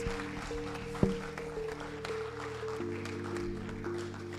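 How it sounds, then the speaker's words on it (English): An audience at a formal event on illegal mining in Ghana gives scattered, moderate applause for a government minister, heard over a steady electrical hum, with one sharp knock near the start. "Please, a louder round of applause"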